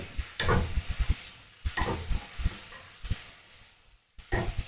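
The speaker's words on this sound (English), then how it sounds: "adding our yellow bell peppers, red bell peppers, green bell peppers, and stir fry all" Beef with yellow, red and green bell peppers stir-fried in a hot pan, a loud bright sizzle broken by scraping stirs in bursts roughly every second and a half, close up with no talking.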